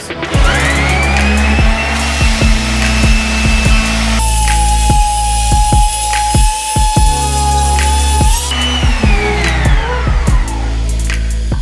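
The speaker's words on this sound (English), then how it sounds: "So I'm going to get the electric sander on this and see if I can sand it down as flat as possible." An electric sander works down a patched wall, a loud continuous whine and buzz under repeated sharp scraping strokes, the pitch shifting steadily as the pressure changes and then settling back.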